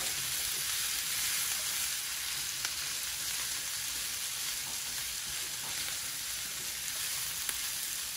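Solyanka ingredients sizzling gently on low heat in a pan for a traditional Russian soup, a steady dense frying hiss that runs unbroken and fairly close, with no talking.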